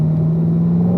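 A car on a track session at Spring Mountain, its engine holding a steady, constant drone with a flat pitch throughout, close and moderately loud, alone without talk.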